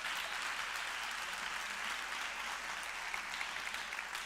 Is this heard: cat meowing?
no